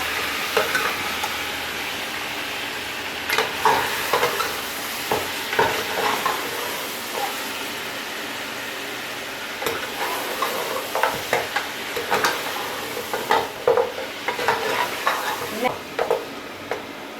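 Beef nalli bones frying and being stirred in a nihari pot, with a steady low sizzle and repeated scraping stir strokes, close and moderately loud, with no talk.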